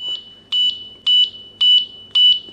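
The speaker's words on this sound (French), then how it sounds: "le bip me signale que la connexion ne s'est pas établie" A Reolink security camera gives a connection beep: a loud, high, steady electronic tone pulsing four times in a regular rhythm, signalling a failed connection, with no talking.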